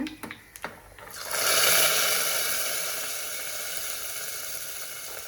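A few light clicks, then a sudden loud rush of sizzling as tempering hits hot oil for a potato and pea gasi. The hiss swells quickly and slowly fades to a steady fry.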